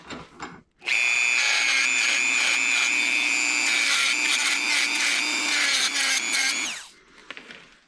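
A high-pitched power tool whines steadily at close range for about six seconds while cutting around the top of a Toyota MR2 SMT sensor, then winds down, with faint handling sounds before and after.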